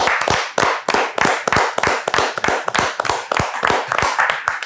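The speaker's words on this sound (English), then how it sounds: "I want to just clap it up on the Knicks." A single person claps hands in a steady run of sharp, close, loud claps with a brief pause near the start, no talk over them.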